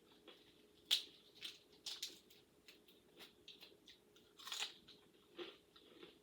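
Someone bites and chews homemade crispy pita chips, giving sharp crunches in an irregular rhythm, close to the listener and quiet with no talking.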